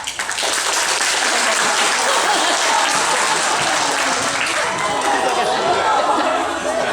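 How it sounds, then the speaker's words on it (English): Audience applause greeting a small cat named Chunga, the Geoffroy's cat being presented, a loud, even wash of clapping that starts quickly and holds steady, with some crowd chatter mixed in. "Let's give a nice round of applause for Chunga."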